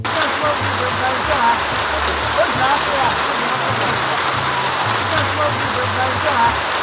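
Rain falls steadily on surfaces in a Nsawam community by an unfinished concrete bridge, a loud, even patter with a low rumble underneath, lasting the whole stretch.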